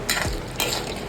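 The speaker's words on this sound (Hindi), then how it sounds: "इसे तब तक फ्राई करेंगे जब तक इसमें से आवाज़ आनी बंद ना हो जाए।" Sago pearls (sabudana) frying in oil, a soft close sizzle with two short bursts of crackle and a light utensil scrape.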